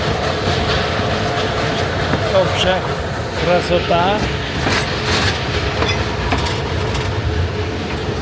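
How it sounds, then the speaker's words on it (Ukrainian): Narrow-gauge Carpathian railway train at Vișeu de Sus running along, a loud continuous rumble with rhythmic clickety-clack of wheels and some squeal, heard from on board with someone talking over it. "Я дуже задоволений, що я можу поринути в своє дитинство і покататися на такому поїзді."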